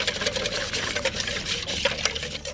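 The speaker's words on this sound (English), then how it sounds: "So I like to kind of use my whisk and get onto the sides of the bowl." Vietnamese pancake batter being whisked in a bowl, a quick close rhythm of wet whisking strokes with the whisk scraping against the sides of the bowl, heard alone without talking.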